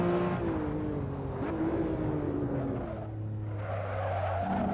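A Porsche 911 Turbo S with four-wheel drive races around Monza in Assetto Corsa, its engine droning loudly and steadily as the pitch slides down through shifts, with tire squeal and skidding noise mixed in.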